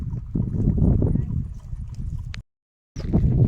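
A herd of goats walks slowly along toward a village pond. Their hooves make a dense, continuous clatter close by, which stops in a brief half-second silence before resuming.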